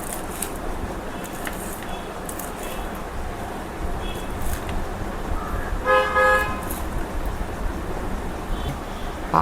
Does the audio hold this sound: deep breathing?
no